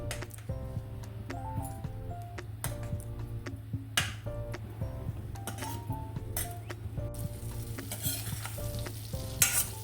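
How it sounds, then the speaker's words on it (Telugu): Butter melting in a dry pan with no oil, for a dhaba-style Afghani paneer kurma, gives a steady close sizzle with bursts of stirring and light utensil clinks. "బటర్ మెల్ట్ అయిపోయిందండి."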